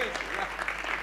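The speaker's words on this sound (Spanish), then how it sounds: "Bueno, está bien, pueden aplaudir." Brief burst of audience applause at a talk on video games as culture, steady clapping from a modest crowd, heard only for a moment.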